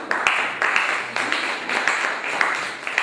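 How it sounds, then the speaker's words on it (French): A classroom gives modest applause after a student presentation, with a scattering of claps in uneven bursts that sound fairly close and soft. "On peut les applaudir un petit peu."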